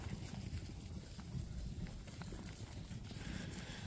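A cow walks on a farm, its hoof steps a soft, uneven plodding buried in steady low wind rumble outdoors.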